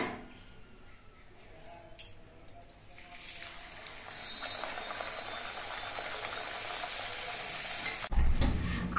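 Pumpkin kachuri bubbling and frying in hot oil, a soft continuous fizz that builds gradually and ends with a louder surge of sizzling and a clatter.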